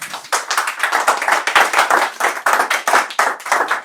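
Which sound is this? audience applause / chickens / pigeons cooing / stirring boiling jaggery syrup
audience applause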